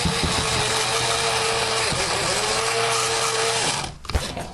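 A blender pulses a coffee rub of garlic, coriander seeds and brown sugar, a loud steady whirring grind held for several seconds with brief dips between pulses, then cutting off near the end.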